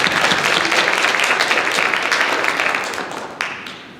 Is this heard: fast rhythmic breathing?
no